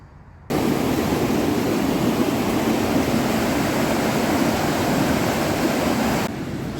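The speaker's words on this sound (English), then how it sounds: "Some serious power in the river here, I think you'll agree." A powerful river, a tributary of the Avon, rushes beneath a large bridge, its loud, dense, unbroken roar of churning water heard up close with no voices.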